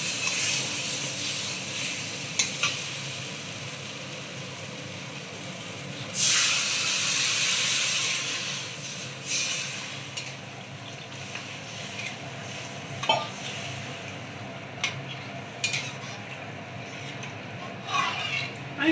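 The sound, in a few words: water added to hot fried masala in a pan, hissing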